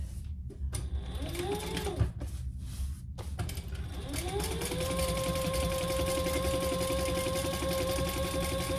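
A sewing machine runs top stitching on a waxed canvas crossbody bag, starting in short bursts, then settling into a long steady mechanical whir with rising pitch.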